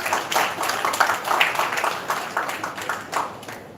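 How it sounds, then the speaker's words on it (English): An audience applauds a speaker at a live bioethics session, steady dense clapping that holds throughout and tapers slightly toward the end. "So put your hands together."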